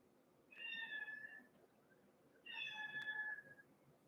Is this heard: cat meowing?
yes